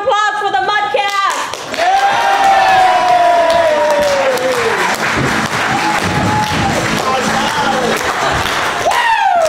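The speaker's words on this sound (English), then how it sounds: "please, make a big round of applause for the Mudcast!" An improv comedy show audience bursting into loud applause and cheering, with whoops and shouts over sustained clapping, and an excited voice calling out above the crowd.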